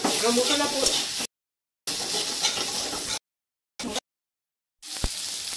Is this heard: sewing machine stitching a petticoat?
no